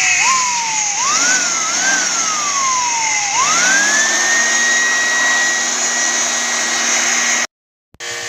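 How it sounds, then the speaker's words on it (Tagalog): An air blower cleans a Kolin inverter air conditioner, its motor whining loudly and rising and falling in pitch with several revs before settling into a steady high whine, then cutting off abruptly. "So yan, ibo-blower muna natin siya"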